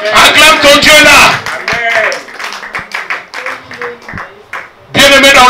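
A congregation claps and cheers in praise of God during a church service, loud bursts at the start and end with scattered claps and voices between.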